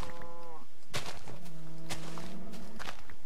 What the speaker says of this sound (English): Oh, shut up, you damn cows.